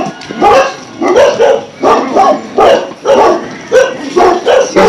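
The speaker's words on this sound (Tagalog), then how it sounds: "Ano aso yun sir? Ang laki." A large dog barks repeatedly and loudly close by, about nine deep barks in a steady rhythm, coming one after another with brief gaps.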